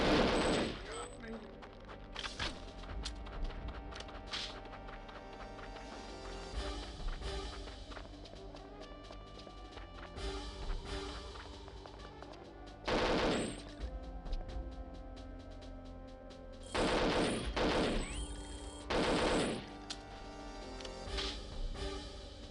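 KF7 rifle fire in the Perfect Dark video game comes in repeated loud bursts and rattling volleys, spread through a long stretch of play with footsteps and a voice talking between the shots.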